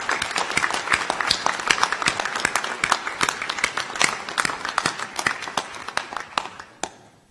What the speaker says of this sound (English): I now ask members of the audience to applaud your accomplishments